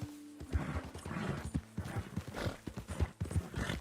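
A horse in the video game Red Dead Redemption 2 clip-clops along with steady, close hoofbeats, joined briefly by a snort or whinny.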